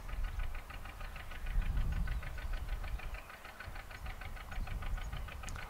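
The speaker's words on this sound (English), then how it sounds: "Can you hear that lovely boat in the distance?" Boat engine chugging in the distance on a cruise, a faint, steady rhythmic knocking pulse over quiet water ambience.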